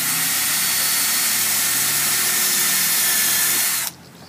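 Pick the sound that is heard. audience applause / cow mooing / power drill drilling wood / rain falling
power drill drilling wood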